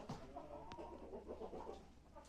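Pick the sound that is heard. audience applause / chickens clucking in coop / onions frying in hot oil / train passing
chickens clucking in coop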